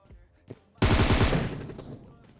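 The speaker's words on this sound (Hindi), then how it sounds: "असल में मैं गोली दीवार पे चला रहा होता हूँ" Gunfire in the shooter game PUBG Mobile, fired at a wall: a quick rapid burst of automatic shots rattles loudly, then fades, with a couple of faint clicks before it.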